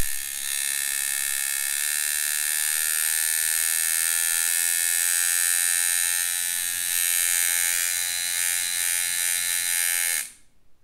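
A Pope Irons T3X tattoo machine runs at 4 volts, giving a steady, loud, high-pitched electric buzz with a fast frame-hitting rattle like an old coil machine, holding constant for about ten seconds before cutting off abruptly.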